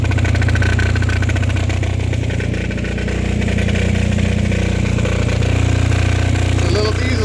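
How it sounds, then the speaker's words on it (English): A small non-turbo diesel generator runs steadily and loudly up close, a continuous rattling, chugging drone with a brief dip in level partway through. "It's a little diesel for you with no turbo."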